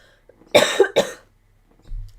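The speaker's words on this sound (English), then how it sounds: "I need to cough." A sharp burst of two close coughs, loud and near, followed by quiet breathing.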